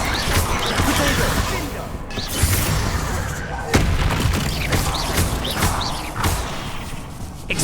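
Magical spell explosions from combat against spiders in the Hogwarts Legacy video game, a dense run of booming thuds and crashes over a constant roar, with sharp louder impacts near the middle and a few shouted incantations mixed in.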